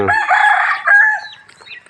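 A rooster in a temple garden behind Wat Pong Chai in Chae Hom, Lampang, Thailand, gives one loud, close, drawn-out crow that trails off, with no talk.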